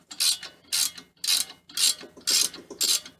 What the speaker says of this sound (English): It's a good thing to have ratchet wrenches, man.